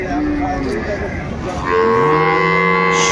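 Sahiwal cows and calves at the Aftabganj cattle market in Dinajpur, two loud, close moos in a row, the second long and rising, set against a busy crowd murmur.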